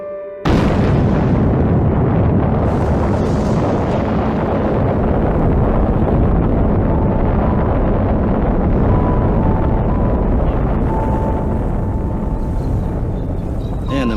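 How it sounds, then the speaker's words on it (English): A bomb explosion booms out after a countdown, a loud sudden blast followed by a long sustained roar and rumble with wind buffeting the microphone. "bomb went off"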